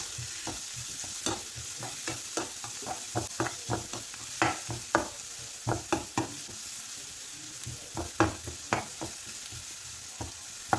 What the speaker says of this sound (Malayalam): പിന്നീട് ഒരു പച്ചമുളകും എല്ലാം കൂടി ഇട്ട് കൊടുത്തൊന്ന് നമുക്ക് വഴറ്റി കൊടുക്കാം.